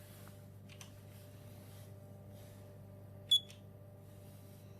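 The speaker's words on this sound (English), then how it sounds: "We can play a touch tone." A single short, bright electronic touch-tone beep from a hydro controller, over a quiet low hum, with a couple of faint clicks before it.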